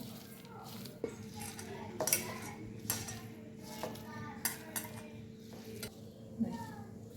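Sliced onion being rubbed and mixed by hand with salt, red chilli powder, turmeric and cumin for crispy onion pakoras, giving soft squelching rustles with occasional clinks of a bowl and utensils, close by, over a steady low hum.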